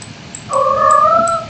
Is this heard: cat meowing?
yes